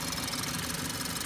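A 2019 Ford Fusion SEL with a 4-cylinder EcoBoost engine runs steadily at idle, giving a continuous clanking, clicking mechanical clatter with no speech.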